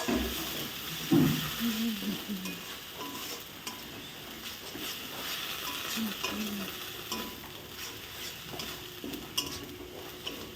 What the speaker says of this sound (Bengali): এইভাবে মশলাটাকে কিছুক্ষণ কষতে হবে কড়াই খেলে